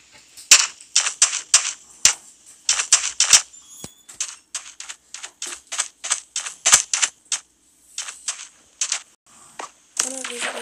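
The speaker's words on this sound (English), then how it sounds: "One of these archers is shooting from behind." Arrows shot by archers in Minecraft, a rapid irregular series of sharp close clicking snaps coming in quick bursts, with a brief noisy pause near the end.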